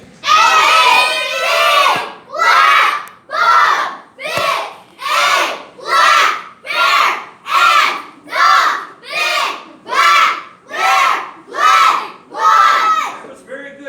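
A group of children at a school museum shout as loudly as they can in a loudness contest. Their shouts come in about a dozen loud rhythmic bursts with short gaps between them, close and crowd-like.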